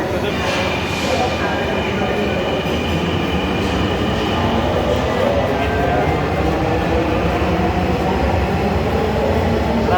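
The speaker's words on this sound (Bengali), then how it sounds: "অবশেষে আমরা চলে আসলাম আগারগাঁও। এই যে ট্রেন থেকে এখন এই যে নেমে বের হচ্ছি" Metro train at Agargaon station, Dhaka, a steady loud rumble of the train and rail noise with a faint high whine, running continuously throughout, with people talking under it.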